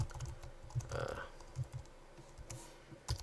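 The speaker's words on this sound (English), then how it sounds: "we'll start randomly typing" Random typing on a computer keyboard, a run of uneven key clicks and thumps at close range, with a brief muffled voice partway through.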